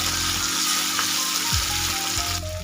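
Tomato paste sizzles steadily as it goes into hot oil for a dhaba-style chole bhaji, a continuous close frying hiss with a few soft stirring shifts, no voices.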